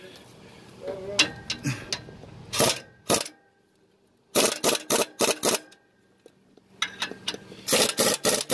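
Air impact gun running down clutch pressure plate bolts on a Z-bar build, several short loud bursts in clusters with pauses between, some handling noise in the gaps.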